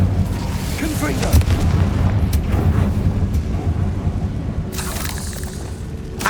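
A Confringo fire spell explodes in the Hogwarts Legacy video game, landing as a couple of deep booms among rumbling battle noise while a voice calls out.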